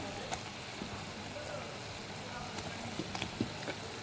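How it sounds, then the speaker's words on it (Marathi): Curry bubbles at a steady boil while patodi pieces drop in, a dense, even hiss with a few soft splashes and plops scattered through it. "ह्याला उकळ आलेला आहे आता आपण ह्याच्यामध्ये ह्या वड्या सोडून घेऊया"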